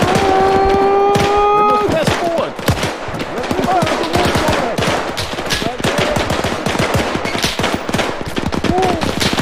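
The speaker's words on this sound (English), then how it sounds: "Wait for the MG42 to reload" Rapid bursts of MG42 machine-gun fire in an Arma 3 Battle of Berlin 1945 scenario, loud and dense with overlapping shots and battle noise throughout, with shouting voices mixed in early on.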